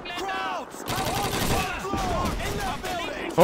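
Rapid gunfire in the video game Call of Duty 2, dense bursts of shots overlapping with shouted German voices and battle noise, loud and continuous, ending in a sharper close blast.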